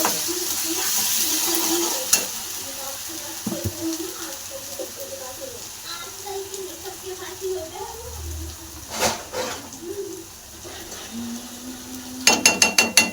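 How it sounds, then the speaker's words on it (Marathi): Masala frying in a pan while a spatula stirs it, a soft sizzle under intermittent scraping and clinks, with a few sharp metallic taps near the end and a voice talking over it. "मसाला चांगला तळून घ्यायचा"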